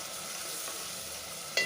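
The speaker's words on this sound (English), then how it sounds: "I will put in half a teaspoon of turmeric powder, that's haldi powder. Stir that too very well." Turmeric powder is stirred into hot oil in a frying pan while cooking dhalcha, with a steady close sizzle and light scraping of the spoon.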